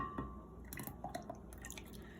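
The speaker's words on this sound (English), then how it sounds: "when I pour in the butter, it is gonna turn a bit more into a solid" Melted butter is poured into cold crepe batter in a bowl, a quiet dribbling and dripping with small liquid plops and squishy splashes clustered in the middle, close but faint, with no voices.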